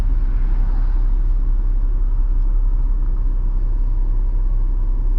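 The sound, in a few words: road traffic noise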